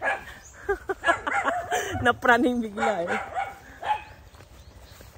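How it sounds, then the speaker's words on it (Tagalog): Guard dogs bark, yip and whine at a milkfish farm, a flurry of nearby barks mixed with people talking over them. "Too many dogs."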